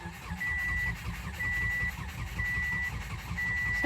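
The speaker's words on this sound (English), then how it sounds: "I'm just gonna crank on her for a while to see if we build oil pressure" A 2006 Subaru Forester engine cranks over on the starter without firing, a steady rhythmic churning with a high beep pulsing about once a second over it.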